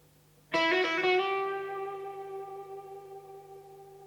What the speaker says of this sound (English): It's no wonder that the Echo-Rec is still today one of the most coveted and imitated effects.